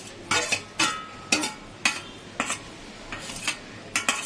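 A metal spoon scrapes and knocks against a cooking pot while grated coconut is stirred into boiled dal for a chal kumro ghonto, with sharp, close, irregular clinks every half second or so and no talk.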